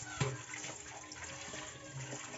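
Water from a running tap splashes over a freshly cleaned plate and bowl being rinsed, a short, soft wash of flowing water with one small clink near the start.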